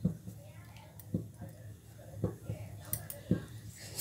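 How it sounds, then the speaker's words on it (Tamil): Cut mango pieces drop one by one into a pan of water for homemade mango juice, giving several soft thuds and light metallic clinks of utensil on cookware, while a person talks quietly throughout. "நம்ம கட் பண்ணி எடுத்து வச்சுருக்கிற மேங்கோ பீசஸையும் உள்ளே சேர்த்துக்கலாம்"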